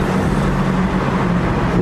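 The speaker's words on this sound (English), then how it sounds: "Downshift action for you guys." A car engine downshifting at a Los Angeles car meet, a loud, close, continuous rumbling roar that holds steady for about two seconds with no speech.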